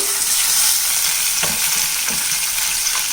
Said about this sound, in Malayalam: കുറച്ച് നേരം എണ്ണയിലിട്ടൊന്ന് തിരിച്ചു മറിച്ചും ഇതൊന്ന് വഴറ്റിയെടുക്കുക.